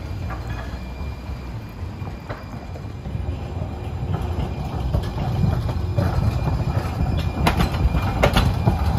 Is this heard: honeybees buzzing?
no